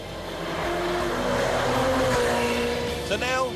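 Ferrari sports car engine running steadily at moderate revs while driving on Italian Alpine roads, a continuous close hum with a brief rise near the end.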